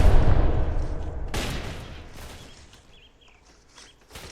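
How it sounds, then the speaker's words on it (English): In the video game Entrenched, artillery fire hits soldiers: a loud, close low blast opens, then sharp cracks of shots and debris fade out, with a few more distant bangs near the end. "Oh, that artillery got many Colombians. This artillery got many of them. It's hitting them."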